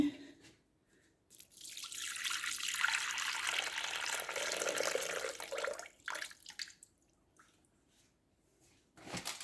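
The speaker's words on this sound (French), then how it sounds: "Alors, on va y mettre 400 ml d'eau" Water poured into a cooking pot for a cabbage and Morteau sausage stew, a steady splashing stream running for several seconds at moderate loudness before tapering into a few faint drips, with no talking.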